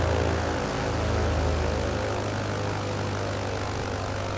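Propeller aeroplane engine in a flight simulator, a loud, steady droning roar with a constant low hum running unbroken throughout.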